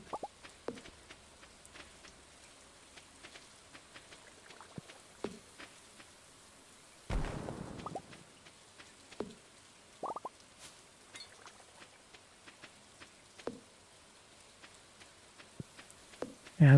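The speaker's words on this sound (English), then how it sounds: "Man, this rain is so peaceful sounding." Rain in the video game Stardew Valley, a quiet scattering of soft drips and plops over a hushed background, with one louder burst of patter partway through.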